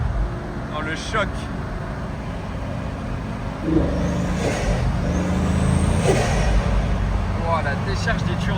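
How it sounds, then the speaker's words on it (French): A Bugatti Mistral's turbos discharge with whooshing hisses over a loud, steady engine roar during a hard drive, while people talk excitedly inside the car. "Wow, la décharge des turbos."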